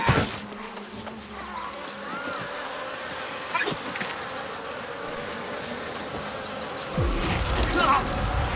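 Wasps buzzing in the New World game, a continuous droning hum held steady for several seconds, with thumps and a louder burst of game noise near the end.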